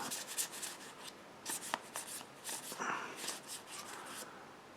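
Magic: The Gathering Tarkir Dragonstorm play booster packs are torn open by hand, giving a series of short, close crinkling rips and foil rustles in uneven bursts, fairly quiet, with no talk.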